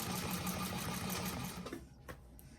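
A sewing machine stitches a bag seam, its rapid even needle chatter running close and steady, then slowing and stopping, followed by a couple of small clicks.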